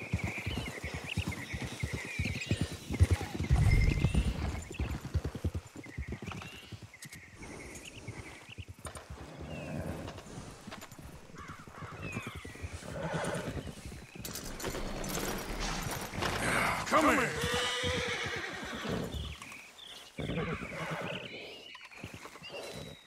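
Horses whinny and hooves clip-clop in the Red Dead Redemption 2 video game, a faint outdoor scene with snorts, a neigh and shuffling hoofbeats over low ambient crickets.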